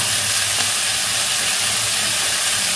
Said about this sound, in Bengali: এর মধ্যে মশলাটা ঢেলে দেবো।